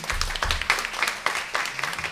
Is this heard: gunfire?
no